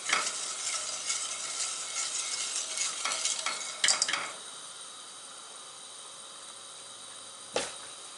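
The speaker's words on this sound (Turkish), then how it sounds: "Ocağımızı açıyorum. Karıştırmaya başlıyoruz." Lokum mixture being stirred in a pot on the stove, a steady scraping swish with a soft sizzle that runs for about four seconds, then drops to quiet apart from one brief scrape near the end.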